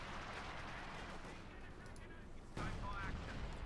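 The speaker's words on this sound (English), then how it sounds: "So much artillery." Artillery and gunfire thud and crack in the Company of Heroes 2 war strategy video game, with a dense barrage of blasts under commentary and a sharper impact near the end.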